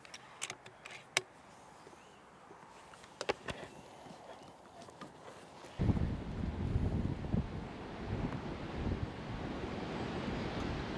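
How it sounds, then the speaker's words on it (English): Strong wind gusts buffet the microphone outdoors where an FX Crown air rifle is being shot, a few sharp clicks and thumps at first before a loud sustained roar of wind noise takes over and continues. "Wind is picking up."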